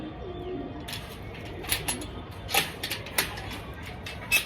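Kept pigeons in a fancier's loft on a cold day coo softly and repeatedly up close, with intermittent wing flutters and sharp clattering knocks.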